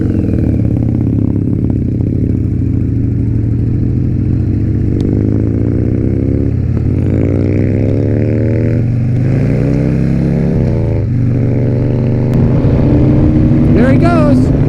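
A Triumph motorcycle revs and pulls away hard, its loud engine note climbing through rising gear sweeps close by while people talk over it.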